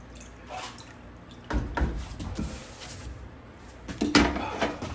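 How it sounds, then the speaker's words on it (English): Water is splashed onto a hot knife blade during forging, giving a couple of hissing, sizzling bursts with drips and clatter in a workshop. "Let me hit it with some water real quick."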